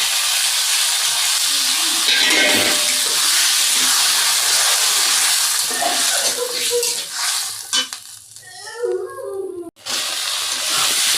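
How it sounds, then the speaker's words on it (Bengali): Taro sautéing in a pan after a splash of water, a steady loud sizzle and hiss with scraping stirring strokes throughout, easing near the end as the steam settles. "একটু পানি দিয়ে দেবো, দিয়ে কষাবো কচুটা আবার সুন্দর করে।"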